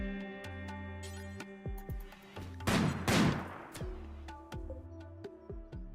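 Gunfire in the video game RimWorld: scattered sharp single shots and a brief burst, with a rising electronic tone and game sound effects in between, fairly quiet overall.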